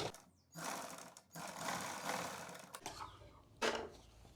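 Close, fairly quiet mechanical whirring from a sewing machine stitching a side pocket onto a kurti, running in several short bursts separated by brief pauses.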